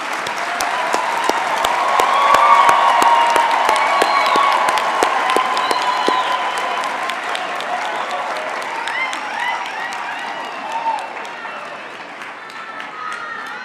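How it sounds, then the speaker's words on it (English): Hearty applause for graduates at a University of Pretoria Faculty of Education spring graduation ceremony, a large hall crowd clapping loudly and continuously with sharp individual claps standing out, swelling early then easing slightly toward the end. "let us give our graduates a big hand for their hard work and perseverance."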